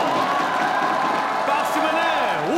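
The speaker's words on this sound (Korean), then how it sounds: "뜨거운 박수 주세요!" An audience at a trot song festival applauds and cheers in a dense, steady wash of clapping and crowd noise, with a voice rising over it near the end.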